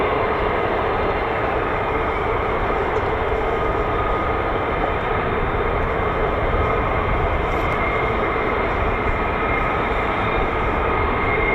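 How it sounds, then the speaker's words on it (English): F-35 fighter jets taxi at an airbase, their engines producing a continuous, loud, broad roar with a steady whine that holds evenly throughout without breaks. "Lots of F-35s taxiing."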